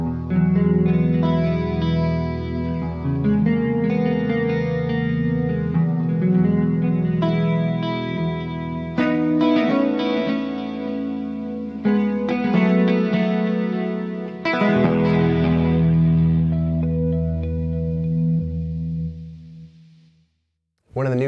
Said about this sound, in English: it's a really cool sounding wide stereo effect